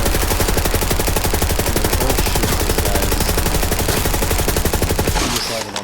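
Rapid gunfire erupts in Borderlands 3 as the player and a clone shoot together, a dense, fast, loud stream of shots hammering continuously for several seconds before cutting off abruptly.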